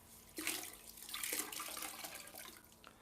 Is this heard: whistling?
no